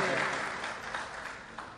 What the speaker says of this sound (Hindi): सारे लोग मिलकर जरा तालियां बजा दें।